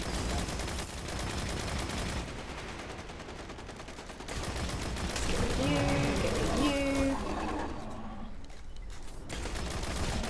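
Gunfire in the shooter game Destiny comes as rapid bursts of shots mixed with other game sounds, while voices talk over the action.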